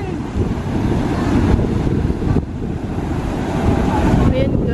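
Large ocean waves breaking at Coolangatta Beach, a steady loud roar of surf with wind buffeting the microphone throughout, and no clear talk over it.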